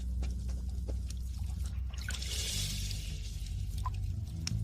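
Feet being washed in hot water, with soft continuous trickling and pouring of liquid close by over a low steady background hum, a few brief splashes and drips scattered through.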